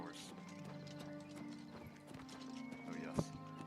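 A horse in the Oblivion video game clip-clopping steadily and letting out a neigh, the hoofbeats rhythmic and close over faint game ambience, with people talking over it.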